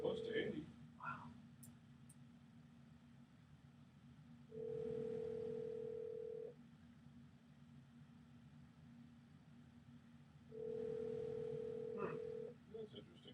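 An unanswered telephone call rings out, with two long steady ring tones separated by silence over a low hum, faint and unanswered, with brief voices at the start.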